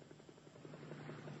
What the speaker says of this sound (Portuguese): E agora eu vou voar com o nosso helicóptero Águia Dourada, Felipe.